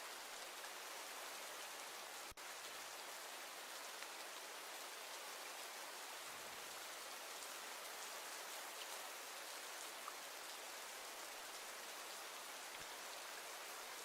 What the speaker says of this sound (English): Get the pictures in before the rain stops